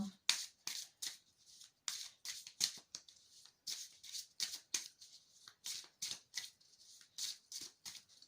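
Tarot cards are shuffled and laid out in quick, crisp riffling and snapping bursts, close and quiet, repeating in a steady rhythm throughout.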